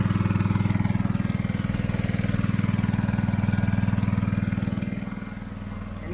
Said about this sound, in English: The faster you got the motor running, the faster it sucks it down.